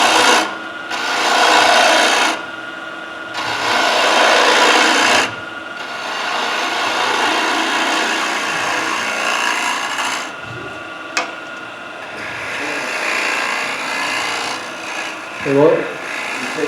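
A woodturning tool rasps against freshly cut wood spinning on a lathe, cutting a thread in bursts of scraping with short pauses between them, loud and close, and brief voices near the end.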